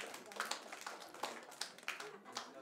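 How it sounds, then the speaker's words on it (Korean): Scattered, modest clapping from a church congregation, separate claps at an uneven rhythm rather than a full ovation, fairly quiet. "우리 정직하신 분에게 박수 한번 쳐드립시다."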